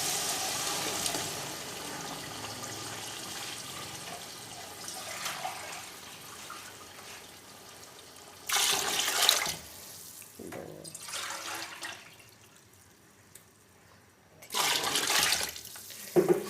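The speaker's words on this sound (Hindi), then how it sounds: "अब पानी डाल देते हैं।" Water is poured from a container into a cooking pot of shredded, fried chicken for matar pulao, coming in three splashing gushes of a few seconds each between quieter stretches of kitchen background, with no talk.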